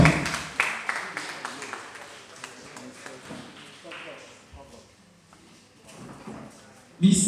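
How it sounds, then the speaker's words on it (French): An audience at a slam poetry concert applauds a performer, scattered claps that fade from a lively patter to sparse hands, with speech over them. "On l'applaudit encore."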